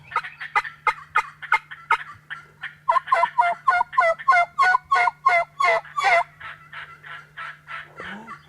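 Wild turkey gobblers gobble outdoors in a long run of rapid, rattling calls, loud and fairly close, with several birds overlapping in bursts before fading off.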